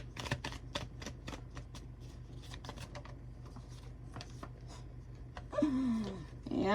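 Tarot cards being shuffled and drawn, a rapid series of crisp riffling flicks close by, followed by a brief rustle and a short vocal sound at the end.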